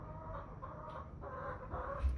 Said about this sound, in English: This is a winter-proof chicken.